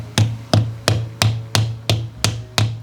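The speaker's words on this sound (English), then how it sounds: "If you take a hammer and tap it up in there" Eight evenly spaced metallic taps from a small hammer on a window blind bracket, each sharp strike ringing briefly before the next, steady and close.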